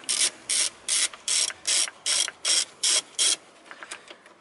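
A ratchet tool is worked back and forth to loosen a bolt on a car, giving about nine even, close clicking bursts in a steady rhythm, followed by a few fainter clicks.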